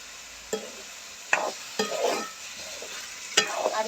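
Something being sautéed in butter in a pan for a Jaffna-style curry, with a steady low sizzle and a few sharp scraping stirs of a spoon spaced through the stretch, no talking.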